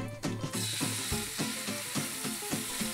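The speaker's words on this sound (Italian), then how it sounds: "Mentre l'olio inizia a profumarsi con lo spicchio di aglio, possiamo aggiungere la fettina di vitella." A thin veal cutlet sizzles in oil flavoured with a garlic clove in a pan, a steady bright crackle with small rhythmic ticks and clinks throughout, no voices.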